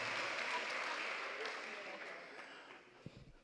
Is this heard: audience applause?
yes